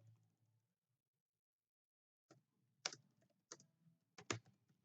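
Keystrokes on a computer keyboard during an SQL lesson, a soft burst of taps at the start, a pause, then several sharper, louder key clicks in an uneven rhythm near the end, no talking.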